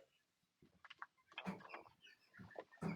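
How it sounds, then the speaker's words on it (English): Chickens kept indoors in an office cluck and squawk in short bursts, close by and fairly quiet, with a few sharper calls toward the end. "My chickens that are currently in my office."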